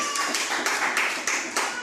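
A church congregation claps in a regular rhythmic beat, roughly six sharp unison claps ringing through a hall, loud and close with a faint hum beneath.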